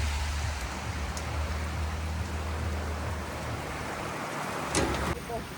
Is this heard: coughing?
no